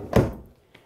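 A solid storage drawer beneath the booth seating of a toy hauler slides shut with one dull wooden thunk, followed by a faint light knock a moment later, close by and with no talking.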